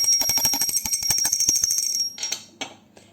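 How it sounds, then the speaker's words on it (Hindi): A small brass puja bell is shaken rapidly during a food offering, giving a bright, continuous jingling ring for about two seconds before it fades into a few scattered tinkles. "तो घंटी बजाकर हम इनको लगा देंगे भोग"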